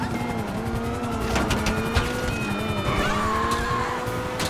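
A stolen Lamborghini Huracan in GTA5 is driven under police pursuit with a droning engine and screeching tires, and a few brief impacts and thuds punctuate the roar, followed by a sharp crash near the middle.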